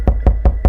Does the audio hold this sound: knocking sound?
yes